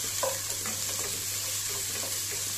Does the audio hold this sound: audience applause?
no